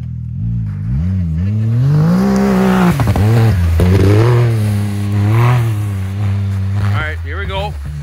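A side-by-side UTV engine revving loudly while warming up in winter, the pitch rising and falling in long swells, close and continuous, with people talking over it.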